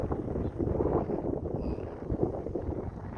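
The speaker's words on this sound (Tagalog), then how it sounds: "malakas kasi yung hangin" Strong gusts buffet the microphone in a continuous low roar, rising and falling throughout, in a wide open regional park in New Zealand.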